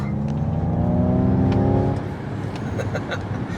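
A Ford Mustang Mach-E GT plays a synthetic engine note through its speakers, a loud, rising rev-like drone that cuts off after about two seconds into quieter road rumble and whir.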